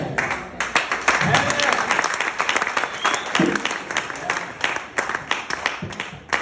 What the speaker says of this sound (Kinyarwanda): Let's have clap to the Lord.